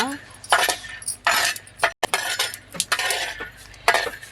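Pearl millet flour roasting in a pan for ladoo, stirred with a metal utensil in loud, close bursts of scraping and clanking against the pan, irregularly spaced with brief pauses.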